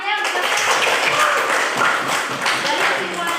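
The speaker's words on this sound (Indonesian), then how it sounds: "Tepuk tangan ya." A classroom of students claps together in a steady patter of applause, fairly close and even in loudness for a few seconds.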